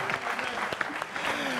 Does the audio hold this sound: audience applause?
yes